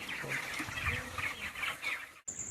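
Hens in a poultry shed cluck and murmur softly in a group nearby, a low, continuous chatter with a brief cut near the end.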